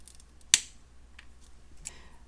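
Wire cutters snip through a piece of beading wire in a single sharp, close click, followed by a softer tick a moment later in an otherwise quiet room.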